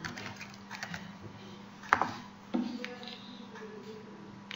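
Light typing on a computer keyboard comes in soft, scattered key clicks with a couple of sharper taps, close and fairly quiet against a low steady hum.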